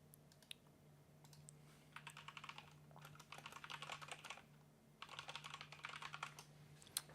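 Fast typing on a computer keyboard, rapid bursts of close, quiet key clicks with short pauses between runs, over a faint steady hum.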